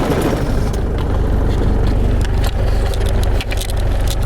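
A 1977 diesel Mercedes clattering and droning while driving, heard from inside the cabin, loud and continuous with a heavy low rumble and no speech over it.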